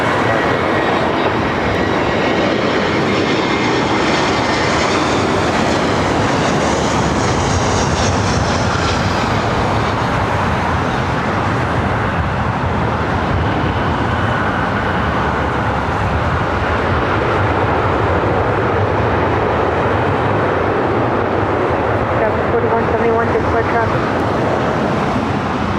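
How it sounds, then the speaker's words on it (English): A Delta Airlines Airbus A321 arrives at LAX, a loud, dense jet roar that holds steady and strong throughout, close and dominating, with a voice faintly under it. "Delta Airlines Flight 457, coming from Atlanta, Georgia. It's an A321."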